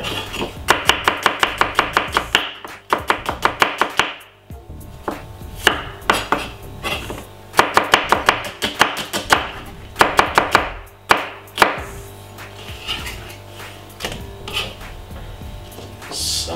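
A knife chops a medium red onion on a board in rapid, loud bursts of crisp knocks, pausing briefly between runs of cuts, with no one talking.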